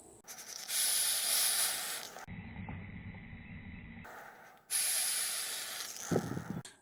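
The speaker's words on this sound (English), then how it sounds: "here's the Hercules RDA on the Disguiser 150 watt Boxmod at 75 watts. Let's have a vape." Vaping on a Hercules RDA atop a Disguiser 150W temperature-control box mod set to 75 watts gives two long, steady airy hisses of a draw, separated by a quieter pause with a low rumble. The hisses are close and fairly loud.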